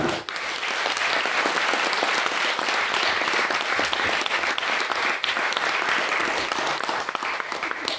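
An audience at a debate claps for its speakers, a dense, sustained round of applause from many hands that stays loud and even throughout.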